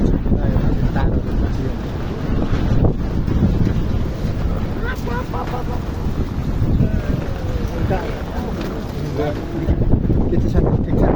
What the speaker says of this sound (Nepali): एकदम हावाहुरी